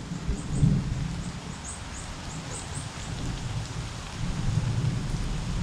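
Steady rain falls throughout while low rumbling thunder swells at the start and again near the end, with faint bird chirps high above.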